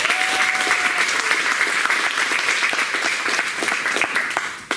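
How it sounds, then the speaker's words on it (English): An audience at a real estate talk gives a round of applause, dense and continuous clapping from many hands, fairly close and loud throughout. "let's give all of them a round of applause too"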